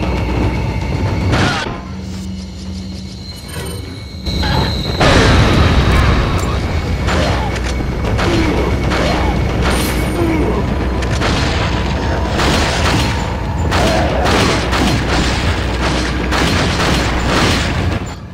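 A grenade goes off in Resident Evil 4 with a loud booming blast and then a long rumbling tail, while chaotic game action continues and a voice speaks now and then.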